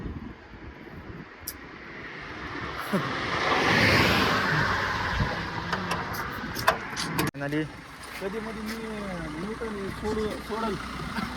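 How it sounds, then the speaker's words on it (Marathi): A vehicle rushes past on a road near Latur, its engine roar swelling to a loud whoosh and fading, followed by people talking over ongoing road noise. "काय स्पीड मध्ये गाड्या चालल्यात बघा"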